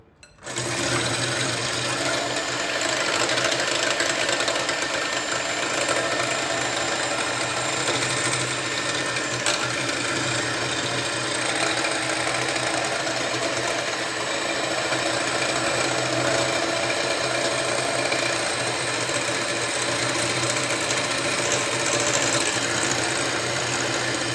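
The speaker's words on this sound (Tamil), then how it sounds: "இப்போ எக் ஒயிட்ஸை நம்ம பீட் பண்ண போகிறோம்" An electric mixer beats egg whites for a tiramisu. Its motor gives a steady, unbroken whirring drone for the whole stretch, with no talking over it.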